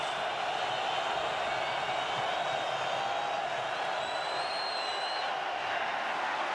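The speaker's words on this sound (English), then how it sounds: "Listen to the crowd on a 3rd and long for the Chargers." Dense, steady roar of a packed football stadium crowd during a Raiders–Chargers game on third and long, a continuous loud wash of noise with whistles and faint shouts rising within it, no distinct talk.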